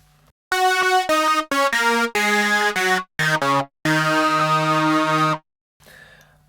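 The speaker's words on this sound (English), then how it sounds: "the synth is another preset from Massive" Native Instruments Massive synth preset playing a bright, buzzy lead line alone, a series of sustained, harmonically rich notes of varying length separated by short gaps, loud and clean with no talking.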